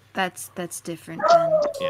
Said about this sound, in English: your dog is yapping